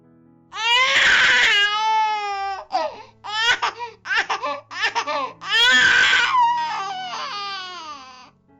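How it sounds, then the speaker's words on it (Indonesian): A newborn baby cries in a delivery room, loud, close wails with a few shorter sobbing breaths between two long bursts. "Tangis bayi terdengar memenuhi ruangan persalinan tersebut."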